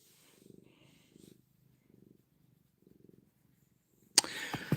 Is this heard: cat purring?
yes